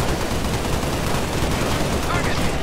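Rapid continuous gunfire from the Halo: Spartan Assault video game, a dense, unbroken stream of loud automatic shots filling the whole stretch with no pauses.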